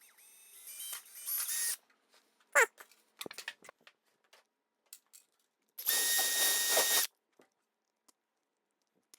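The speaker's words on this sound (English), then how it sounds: "Drill the holes at exactly 90 from where I drew the cut" A power drill bores quarter-inch holes for a prop flag in two loud, sustained bursts, each about a second long, separated by scattered clicks, taps and handling noises in an otherwise quiet room.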